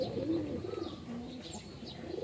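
High-flying racing pigeons coo in a loose cluster close by, with soft throaty calls rising and falling over a low hum of background noise.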